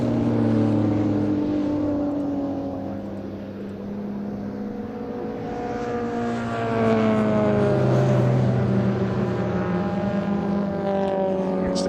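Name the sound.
classic racing cars passing at Thruxton circuit, Alfa Romeo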